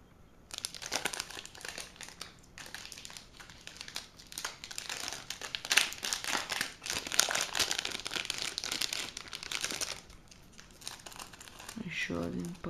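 Plastic parcel packaging from China crinkles and rustles loudly and continuously as it is opened, with bursts of crumpling and a faint tearing, alone without talk.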